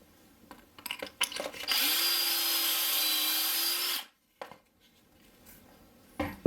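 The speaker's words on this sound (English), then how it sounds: "on the second one, drilled through, but the bit didn't come through" A power drill bores through wood wall framing in a school bus conversion, a loud, steady whine lasting about two seconds, framed by short clicks and handling knocks before and after.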